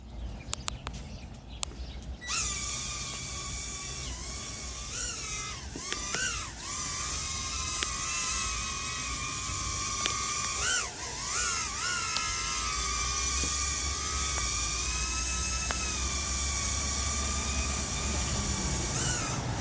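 A Loolinn U61 toy drone lifts off and keeps flying, its small propellers giving a steady high-pitched whine that rises and wavers in pitch as it climbs and hovers, loud and close throughout after a quiet start.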